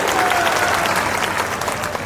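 Dense crowd applause welcoming a guest at a BJP election nomination rally in Kawardha, loud and continuous for the whole stretch with cheering mixed in.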